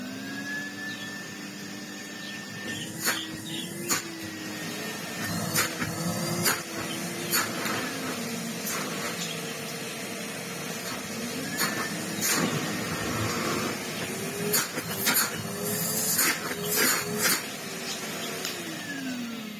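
A Henry Hoover vacuum cleaner runs on high with a low-pitched motor drone and whirring airflow, its pitch wavering slightly, interrupted by scattered clicks and knocks from handling.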